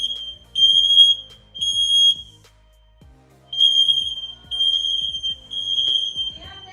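X-Sense wireless interconnected smoke alarm being tested, sounding loud shrill tonal beeps in bursts with short pauses between groups, close by.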